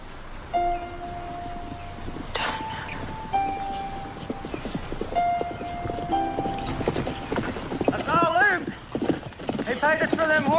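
Horses' hooves clip-clop steadily through a Western town scene where horses are being loaded onto a train, rhythmic clopping beneath people talking, with rustling and a horse whinny near the end.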